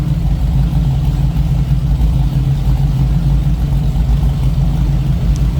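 A 1934 Ford Highboy Roadster engine idles steadily and loudly up close, a deep rumbling throb with no talking.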